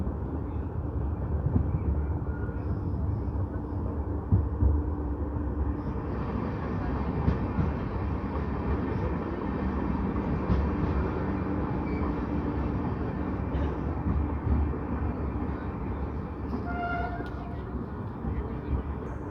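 Hoshiarpur–Agra Cantt Express LHB passenger train picking up speed on the rails, a steady rumble of wheels and coaches heard from on board, continuous and fairly loud with faint background clatter throughout.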